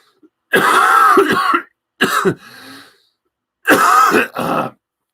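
Three short bursts of harsh throat-clearing coughs from a person with influenza, close and fairly loud, separated by brief silences.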